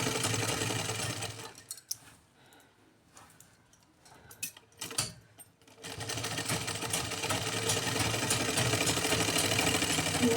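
Sewing machine stitching elastic into a pair of pants, running in fast continuous bursts at the start and end with a quieter pause in between, close and fairly loud.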